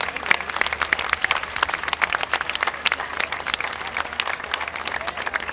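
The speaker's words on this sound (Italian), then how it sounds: "facciamo un applauso" Crowd applause at the Pontida 2023 political rally, a dense, continuous patter of many hands clapping outdoors, steady and moderately loud with no speech over it.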